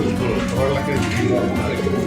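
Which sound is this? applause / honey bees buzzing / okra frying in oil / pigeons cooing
pigeons cooing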